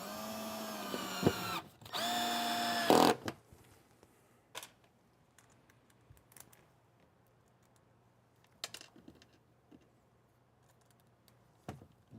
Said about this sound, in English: The reason it's so hard to drill these in is Baltic birch